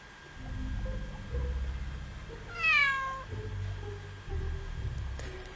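A frightened cat in the horse-riding game Horsez 2 gives one clear, rising-and-falling meow over a low background hum, with a few faint clicks afterward.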